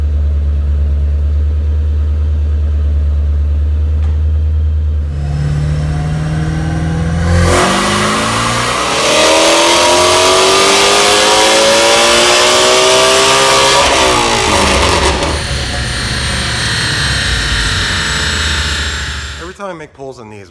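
A supercharged Ford Mustang GT350R with a Whipple supercharger, factory exhaust manifolds and free-flowing exhaust, revs hard on a dyno, winding up from a low idle to a loud high-rpm scream near 8,000 rpm before dropping off at the end.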